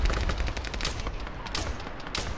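Rapid bursts of automatic gunfire in an Arma 3 firefight, dense overlapping shots cracking loudly through the whole stretch with a few sharper peaks standing out.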